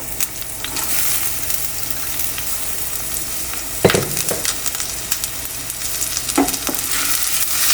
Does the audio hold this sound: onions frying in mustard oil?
yes